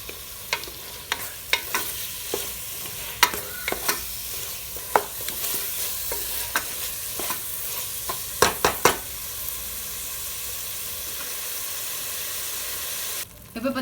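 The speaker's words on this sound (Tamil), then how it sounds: "கரண்டியை வச்சு அப்படியே லைட்டாக மசித்து விட்டுட்டு வதக்கணும்" Tomatoes sautéing in a pan for a seeraga samba mutton biryani, mashed down with a ladle: steady close sizzle with repeated sharp scraping clicks of the ladle against the pan, no talking.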